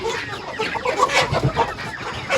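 Chickens cluck in a short burst of overlapping calls at moderate distance, irregular and lively, with faint background noise.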